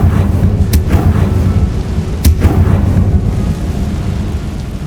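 Two sharp, loud explosive blasts from the Confringo spell in Hogwarts Legacy burst out about a second and a half apart, each leaving a rumbling boom over a continuous low roar.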